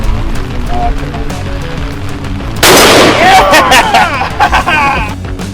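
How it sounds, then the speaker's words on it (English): Several guns fired at an outdoor shooting range, with a sharp loud report and echoing tail partway through following quieter background noise and crowd chatter, while people talk nearby. "so now we're just out here shooting around"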